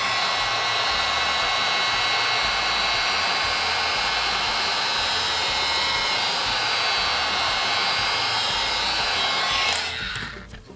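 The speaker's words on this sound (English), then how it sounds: "we're going to run the heat gun right along the edge here to soften this resin" A heat gun blows steadily along the edge of a board to soften resin, a loud, even whooshing hum of hot air that holds for about ten seconds before cutting off, with no talk.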